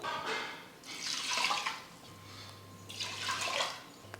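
Water pours over rice and moong dal for pongal in two separate splashy gushes, fairly quiet and close, with a low hum between them.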